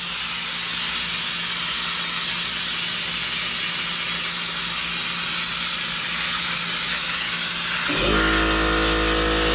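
Water sprayed forcefully onto a soccer World Cup sign makes a loud, continuous hiss for about eight seconds, then gives way abruptly to a steady motorized hum.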